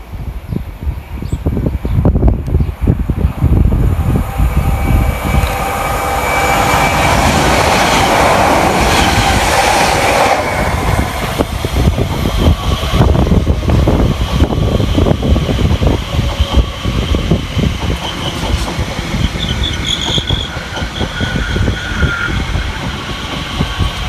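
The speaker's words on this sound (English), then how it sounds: "on the fast line we've got 1 Yankee 18 from Liverpool Street through to Ipswich" Train 1Y18 from Liverpool Street to Ipswich roars past on the fast line of the Great Eastern Main Line, loud and near, with rushing air and rhythmic clickety-clack of wheels over rail joints that fades toward the end.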